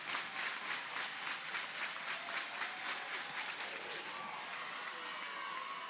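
Crowd at a college softball stadium cheering and clapping during an NCAA regional game between Cleveland State and Oklahoma, a steady, dense roar of voices and applause that swells and holds throughout without a break.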